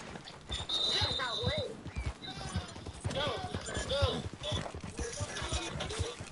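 A horse in a video game: repeated clip-clop hoofbeats with a couple of neighing whinnies, fairly close and loud, with chatter and game noises mixed in.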